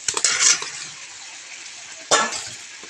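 Fried potatoes being stirred into cooked chicken curry in a pan, with a scraping, clattering burst at the start and another stir near the end over a soft, steady sizzle.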